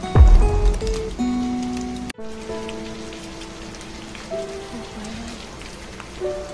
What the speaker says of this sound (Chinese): 下雨不知道打伞吗？